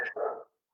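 A single short dog bark, fairly faint and slightly distant, ending abruptly into silence.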